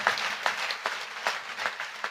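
Members of a congregation clap steadily, a crowd of hands forming a continuous patter with sharper individual claps popping out at irregular intervals, moderately loud with no clear speech.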